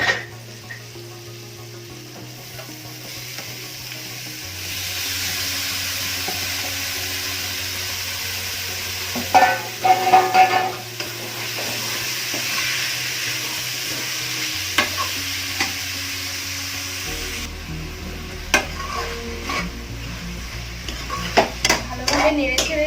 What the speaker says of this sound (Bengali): ভালোভাবে নেড়ে ছেড়ে নিয়ে এটাকে ঢেকে রাখতে হবে 2 মিনিটের জন্য।